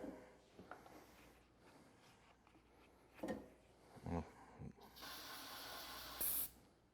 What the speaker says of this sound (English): Bring back in our spray.